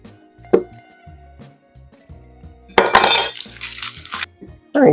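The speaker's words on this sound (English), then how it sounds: "I'm just going to take that onion and slice it just into nice little big chunks there" A knife slicing an onion into big chunks on a cutting board: a sharp tap early, then a louder burst of crunching cuts and a final knock, close by over music.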